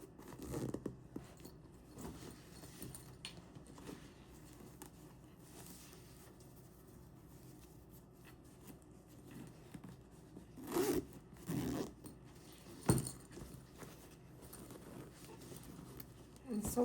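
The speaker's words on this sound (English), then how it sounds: "make sure the zipper closes okay." A zipper on a sewn fabric tote bag is drawn closed, with brief scratchy zips and rustling handling of the fabric, close and fairly quiet, under occasional soft sounds of movement.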